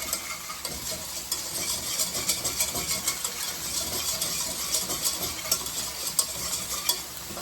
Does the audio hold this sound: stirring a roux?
yes